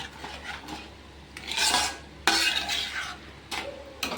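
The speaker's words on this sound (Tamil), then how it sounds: "மறுபடியும் கைவிடாமல் கலக்கிக்கிட்டே இருப்போம்" A spoon scrapes and stirs thick wheat flour halwa with sugar in a pan, in several rasping strokes of varying loudness, close and clear, with no talk.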